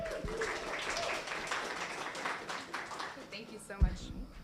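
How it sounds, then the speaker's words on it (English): An audience applauds two speakers at a morning business pitch event, a faint, steady wash of many hands clapping from across the room, with voices murmuring underneath. "give a rousing applause for Emily and Leslie with Modus"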